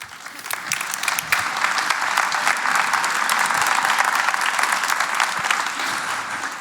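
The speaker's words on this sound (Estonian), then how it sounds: "juba lavale tulles saad aplausi ja püsti seismise" An audience at an autumn school seminar breaks into sustained applause, dense clapping from a large crowd that swells and then eases slightly, close and continuous.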